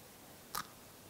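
One quick, crisp crunch as someone bites into a crispy waffle ice cream cone made on an MKS CIC14 electric cone maker. The bite is brief and quiet against a steady low hiss.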